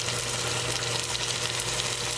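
Tomato sauce sizzling with tadka in an oil-filled pan, a dense, continuous frying crackle heard up close with no talking.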